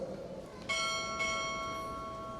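At a Navy chief petty officer pinning ceremony, a ship's bell is struck twice in quick succession, each clear metallic ring overlapping the last and fading slowly with no voices over it.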